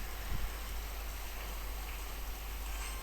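Steady heavy rainfall hisses evenly throughout, a dense wash of noise with no voices.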